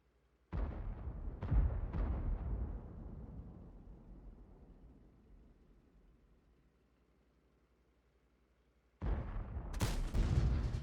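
Tank gun shots in a video game, a trio of loud booming blasts in quick succession early on that trail off into a long rumbling decay, then two more heavy shots near the end.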